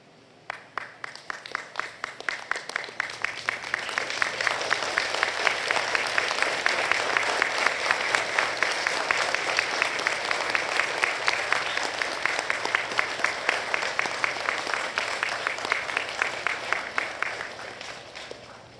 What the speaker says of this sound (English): offer a round of heartfelt applause